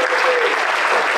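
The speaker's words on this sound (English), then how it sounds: "we'll give you a round of applause" A banquet audience at a scholastic sports fish fry claps in a dense, loud, sustained round of applause. The clapping fills the whole short moment with no pauses.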